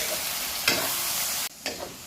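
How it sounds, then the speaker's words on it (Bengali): Onions fry in hot oil in a pan with a constant close sizzle, broken by two quick scraping stirs of a spoon, and no one talks. "এবার পেঁয়াজটাকে লাল লাল করে ভেজে নেব।"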